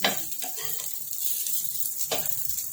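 Leftover-rice tikki roast in a pan over a low flame, giving a soft, continuous sizzle broken by a few brief scraping, stirring knocks near the start and toward the end.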